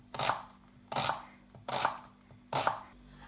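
A knife slices through a leek on a chopping board in four firm, evenly paced cuts, each a crisp crunch and thud with short quiet gaps between.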